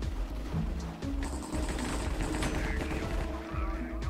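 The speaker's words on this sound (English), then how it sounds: "I hear shots being fired everywhere, but I don't see anyone" Gunfire rattles in a Minecraft multiplayer match, a dense, continuous barrage of rapid shots that stays loud and busy throughout with no pauses.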